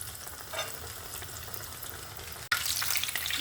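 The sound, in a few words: eggplant slices frying in hot oil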